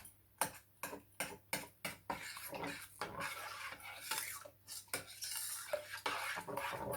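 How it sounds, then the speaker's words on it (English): A spoon stirring peach and vanilla jam in a pot, with a run of regular sharp clinks against the sides, then softer scraping swirls and more clinks, close up, no talking. "So I'm just going to stir that around."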